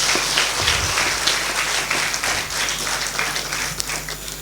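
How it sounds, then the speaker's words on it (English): Audience at a nursing college orientation program claps steadily for a student invited forward, a dense, moderately loud round of applause lasting several seconds. "Claps."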